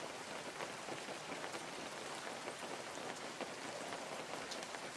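Steady rain falling outdoors, a dense even patter of drops hitting surfaces, fairly soft and continuous with no voices.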